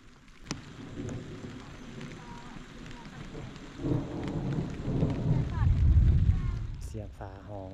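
Heavy night rain pours onto a farm field while thunder rolls and rumbles, swelling louder toward the end over the steady downpour.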